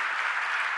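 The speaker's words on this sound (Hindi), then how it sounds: "तालियां तालियां तालियां जोरों से।" Audience applause during a Jain monk's religious discourse, a brief dense burst of clapping at steady volume.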